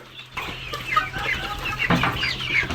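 Several caged farm chickens cluck and chatter close by, with overlapping short calls and a bit of rustling throughout.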